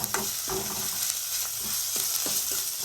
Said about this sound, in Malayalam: ഇഞ്ചി വെളുത്തുള്ളി ഇട്ടു ഇനി അതും കൂടിയും കൂട്ടിയിട്ട് ഇതേപോലെ കുറച്ച് നേരം ഇങ്ങനെ ഇളക്കുക